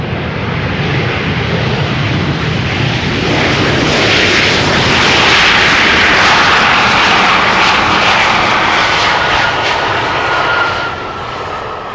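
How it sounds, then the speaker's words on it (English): A KLM Embraer jet lands at Schiphol and roars through its thrust reversers, a loud, broad, sustained rush of engine noise that holds steady for the whole stretch. "that was an Embraer from KLM using the reversers there"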